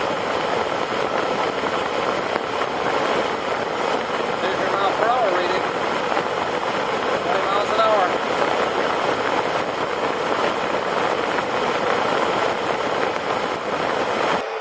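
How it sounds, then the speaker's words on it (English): A powerful 1500 CFM fan in a DIY chilled-water air cooler roars with a steady, dense broadband rush, loud and unchanging throughout. "this thing is a 1500 CFM fan. It literally is blasting all the way across the room and cooling it down."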